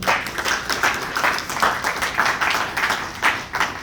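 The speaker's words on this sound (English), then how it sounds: "Let's give all the apprentices a round of applause." A small audience at an apprenticeship achievement ceremony gives a round of applause, close and lively clapping with rhythmic surges, no talking over it.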